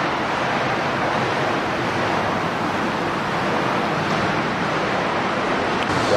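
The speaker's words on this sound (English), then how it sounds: "I'm going to hot tub for a bit." Dense, steady rushing of bubbling water fills a hot tub, a constant broadband hiss and churn heard close up without any voices.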